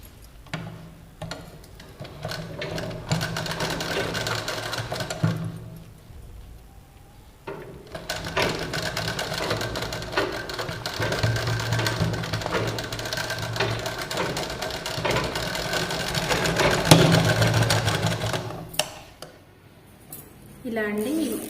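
A sewing machine runs in bursts, stitching the second side of cloth with a half-inch seam allowance, its steady whir pausing briefly between runs, with someone talking over it.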